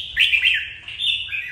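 An aging songbird kept for singing competitions chirps in bright, continuous warbling phrases with brief dips. It is close and clear against quiet background hiss.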